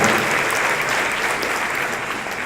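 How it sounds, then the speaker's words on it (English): An audience at a community organization event applauds a married couple, a dense, steady wash of many hands clapping that fills the whole stretch at full, even loudness. "A huge round of applause for them"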